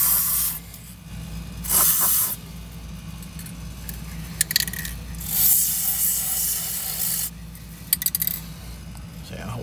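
Lubricant is sprayed onto squeaky heim joints in short hissing bursts, several separate sprays with pauses, close to the mic, mixed with light metallic clinks.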